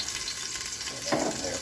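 Minced garlic hitting olive oil heated to near low, a short sizzle that swells suddenly about a second in over a steady background hiss, close and fairly loud, with no one talking.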